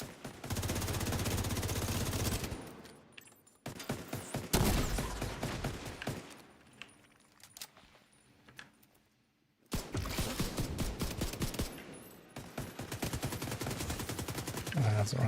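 Loud bursts of rapid automatic gunfire in a shooter video game, firing in long volleys separated by short quieter pauses.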